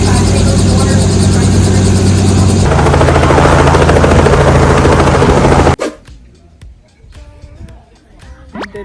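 Helicopter on Boracay, a loud, steady, close rotor and engine roar that runs for several seconds and then cuts off abruptly, leaving quieter background sounds with some talking.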